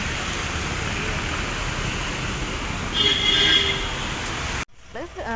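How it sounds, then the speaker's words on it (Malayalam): A steady roar of a metro train passing overhead in Ernakulam fills the scene, with a brief high wheel squeal midway, then it cuts out and a voice begins speaking. "മോളിൽ കൂടി മെട്രോയൊക്കെ പോകണ്ട കേട്ടോ."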